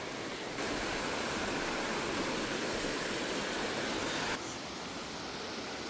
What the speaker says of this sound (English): That water's rushing though.